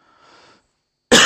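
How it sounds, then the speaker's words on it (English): A single loud, close cough from a person with a sore throat, a short harsh burst following a faint earlier breath or noise and a brief silence. "I have a little bit of a sore throat, so please excuse my coughing."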